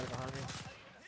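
Burst of gunfire from an AK74u in the shooter game Warzone on Rebirth Island, rapid sharp shots at the start that quickly fade, heard alongside in-game sounds and a player's voice.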